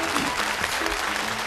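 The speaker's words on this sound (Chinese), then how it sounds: "掌声鼓励一下" Audience applause at a Chinese comedy sketch performance, a dense, steady wash of clapping that fills the short moment evenly without pause.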